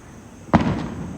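A single Diwali firecracker bursts with a sharp, loud bang, then trails off in a short rumbling decay, with no voices.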